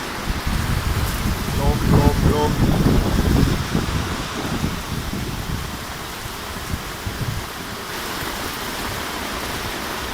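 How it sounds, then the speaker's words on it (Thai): Gusts of wind with heavy rain battering a tent at a campsite in Hat Chao Mai National Park, a steady close roar that swells and eases, with a short voice early on. "ลมมาเป็นทีทีครับ"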